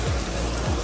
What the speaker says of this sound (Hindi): कितनी जबरदस्त बारिश हो रही है राजस्थान में।